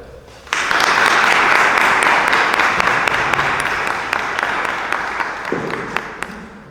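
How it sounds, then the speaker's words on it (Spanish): Applause for a speaker at a conference on the church and hospital of the Santa Vera-Cruz brotherhood, starting abruptly and holding as a loud, dense clatter of many hands before tapering slightly, with a voice briefly heard near the end. "pedir un gran aplauso para él."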